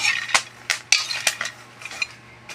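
A utensil scrapes and clinks against a pot as popcorn is stirred. About a dozen sharp, close metallic knocks come in an uneven rhythm over a faint steady hum, with no talking.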